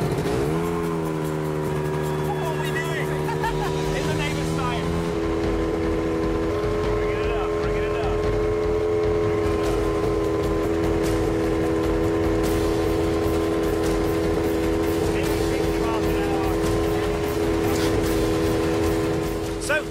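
A wind machine blasting air at 60 mph, a loud, continuous roaring rush with a steady droning motor tone underneath that holds for the whole stretch.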